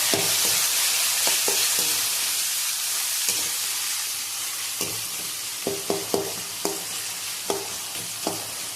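Small shallots and two tomatoes frying in oil for chicken gravy, giving a steady broadband sizzle throughout, with scattered sharp clicks and scrapes of stirring that cluster toward the end.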